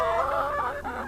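A flock of Rhode Island Red laying hens, with no rooster, clucks and squawks continuously, several birds calling over one another at close range.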